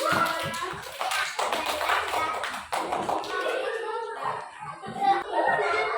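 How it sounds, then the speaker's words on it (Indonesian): Children clapping together in a primary school classroom for a classmate, uneven bursts of hand claps mixed with young voices talking and chuckling. "Beri tepuk tangan buat si anak."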